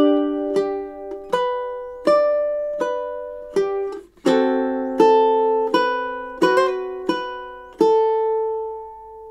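A ukulele plays two measures of Ave Maria, a steady run of single plucked notes and a few fuller chords, each ringing clearly before the next, close and alone.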